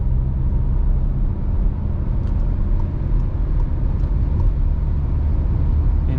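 A 2021 Volkswagen Tiguan 2.0 TDI merging onto a highway, heard from inside as a steady, loud low road and engine rumble with constant tyre roar and no talk.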